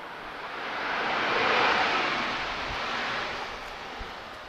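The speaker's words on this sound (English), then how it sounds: "Nice burst of reverse thrust there." Airliner roaring with reverse thrust while landing at Lisbon Airport, a broad rushing jet noise that swells to a peak mid-clip and then eases, heard from a distance with no talk.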